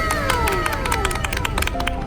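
Quick claps and excited cheering from a small crew on an autumn clothing photo shoot, a dense, steady burst of hand-claps with bright shouting voices over it, close and fairly loud throughout.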